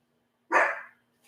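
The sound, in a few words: small dog barking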